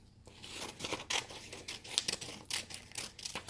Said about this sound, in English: So I'm using my scissors safely.